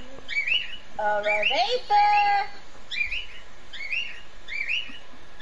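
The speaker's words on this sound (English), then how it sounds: "Oh, the bird's calling her boyfriend." A pet bird calls in repeated chirpy whistled phrases at a steady rhythm, fairly close and clear, while a person talks briefly over it partway through.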